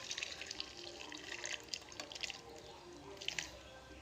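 Curdled milk for homemade paneer pours and drips through a cotton cloth into a mug, giving soft trickling and splashing liquid sounds close by with no one talking.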